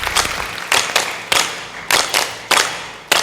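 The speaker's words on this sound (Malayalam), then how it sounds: "ഓക്കെ, ഒരു കയ്യടി വരട്ടെ." Bursts of clapping from a live comedy show audience during a choreographed dance segment, arriving in several separate waves about every half-second to second, fairly close and loud, with no talking over them.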